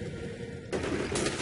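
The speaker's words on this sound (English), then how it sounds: "Boom, plowing right through the boxes." Car in Next Car Game crashing through a pile of boxes, a sudden loud burst of cluttered impact noise that cuts in halfway and rumbles on over steady engine drone.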